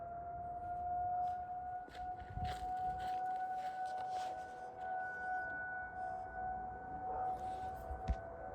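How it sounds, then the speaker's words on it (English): A tornado warning siren in Lucas County, Ohio, sounds far off during a noon test, its steady tones holding throughout over a rumble of outdoor background noise. "There goes the sirens."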